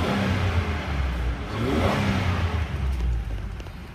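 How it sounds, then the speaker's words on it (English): A 2004 Ford Freestar Limited engine runs steadily with a low, throaty rumble, briefly revving up partway through before settling back to a constant idle. "Let's go ahead and listen to the engine."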